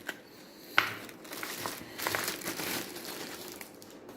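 Plastic packaging crinkles and rustles while a gaming keyboard, an iMice AK600 RGB membrane model, is unboxed. There is one sharp crackle near the start, then steady, quiet crumpling nearby.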